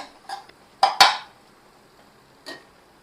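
A spoon clinks and scrapes against a pot while mixing jeera peas pulao with mint, a handful of sharp metallic taps spread apart, close and fairly clear over quiet background.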